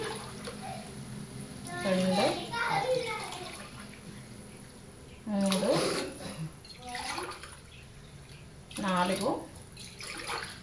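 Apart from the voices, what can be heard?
pouring glasses of water onto rice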